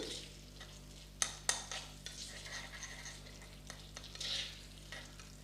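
Banana leaf juice halwa cooks down in a pan while cardamom is stirred in, with a steady low sizzle, a couple of sharp utensil taps near the start and scraping strokes, close and with no talking.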